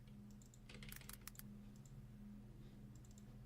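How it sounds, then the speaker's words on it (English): Computer mouse clicking in a quiet room, a quick cluster of light sharp clicks followed by a few sparse, faint clicks over a steady low electrical hum. "Oh, it's the clicking of my mouse you're hearing."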